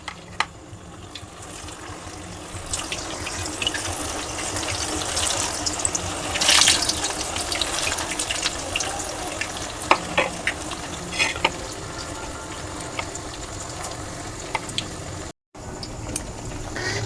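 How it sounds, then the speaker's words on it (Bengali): Snacks dropped one by one into hot oil in a home kitchen, a continuous bubbling sizzle with occasional clinks and stirring noises, moderately close and without talk. "দেখুন এবার আমি এক এক করে তেলে ভেজে নেব।"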